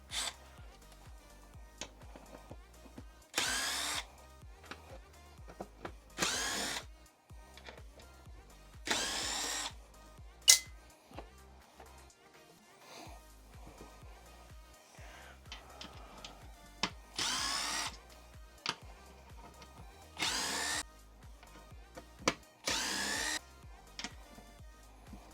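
Power drill with a 2.5 mm bit backing out chassis screws, several short whirring bursts spaced a few seconds apart with quiet handling noises between, close but fairly soft, no talking.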